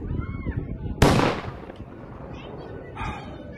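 A single sharp gunshot cracks at a buck during a hunt, loud and sudden, decaying quickly; murmured voices come before it, and a dog-like sound follows.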